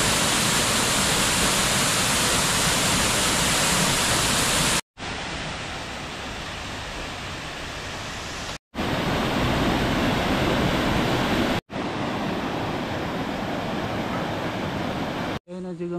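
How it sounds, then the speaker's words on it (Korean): Guryong Falls in the Sogeumgang valley of Odaesan, a powerful steady roar of falling water filling the clip, broken by several abrupt cuts between segments of varying loudness. "여기는 구룡폭포 상부입니다"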